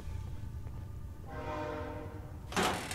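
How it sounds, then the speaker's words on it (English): A train in the video game Fallout 4 rumbles along, then a bright horn-like blast and a loud hissing burst cut in near the end; no one speaks. "Oh, we got a train, people. There's a train."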